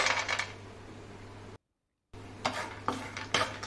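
A handful of peanuts lands in a pan of hot oil with a rattling clatter, followed by a brief dead silence, then several more sharp skittering clatters of nuts against the metal pan.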